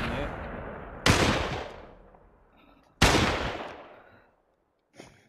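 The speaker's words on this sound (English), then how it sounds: "Still firing at me." Sniper gunfire in the VR shooter Population One: two loud, sharp shots about two seconds apart, each with a long decaying echo tail, followed by a brief fainter sound near the end.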